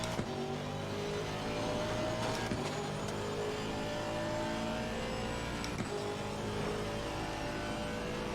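Race car engine at Suzuka in Assetto Corsa Competizione, a continuous loud roar with rising and falling revs and brief gear-shift blips, heard alone without talk.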